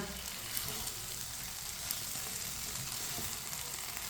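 Masala bhindi (okra) sizzles in a pan while being gently stirred, a steady close frying hiss with soft scraping and mixing sounds underneath, no talking.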